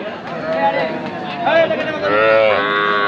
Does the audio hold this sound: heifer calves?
yes